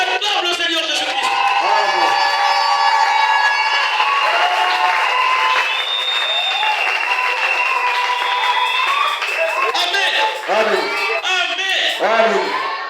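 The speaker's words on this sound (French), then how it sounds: "on acclame le Seigneur Jésus-Christ." A church congregation at a French-language service loudly acclaims Jesus Christ, with a dense wall of cheering voices, shouts and scattered clapping that carries steadily through the whole span.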